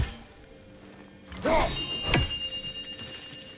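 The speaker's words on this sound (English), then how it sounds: "Good to see the chimes working as intended" A set of chimes in God of War Ragnarök rings out in two bright strikes, the second sharper, each followed by a shimmering metallic ring that decays slowly, no voices.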